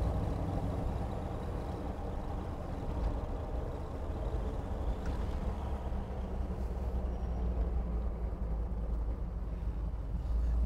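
A 1979 Ford Bronco truck with EFI fuel injection runs with a steady, dense low rumble that holds unbroken throughout, close and even in level, with no voices over it.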